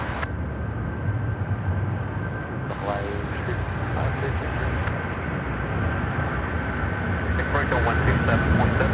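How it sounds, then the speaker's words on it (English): A Boeing 777 airliner takes off at Charlotte Douglas International Airport, a loud, steady broadband engine roar that holds throughout, with a thin high tone over it and brief bursts of brighter noise. "Let's watch this 777."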